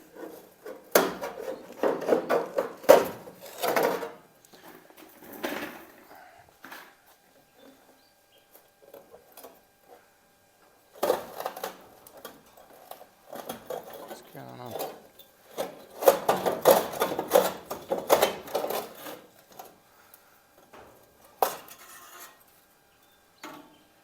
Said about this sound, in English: I'm going to stick a pry bar in here because there's only a little bit of it still hanging on.